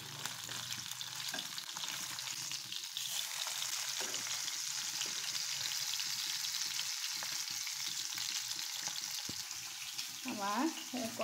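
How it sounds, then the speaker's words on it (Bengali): Rohu fish fries slowly in a pan, giving a steady soft sizzle with occasional light clinks and scrapes throughout. "এখন আমি এইখানে ভাজা হোক আস্তে আস্তে"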